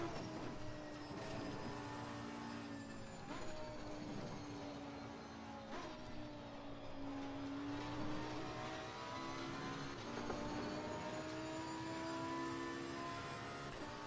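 A race car engine in Assetto Corsa Competizione holds a steady, loud drone on a flying lap, rising and falling slightly with gear changes and with no talk over it.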